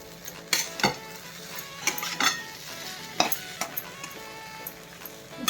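Spoon stirring and mixing food in a hot pan, with scraping and clinking strikes against the metal over a faint sizzle, several distinct hits spaced irregularly, close and fairly loud with no talking.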